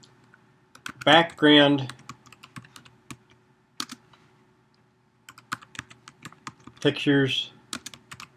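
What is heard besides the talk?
typing a search on a computer keyboard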